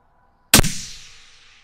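A single loud, close 6.5 SAUM rifle shot cracks sharply out of silence, then its echo rolls away and decays over about a second.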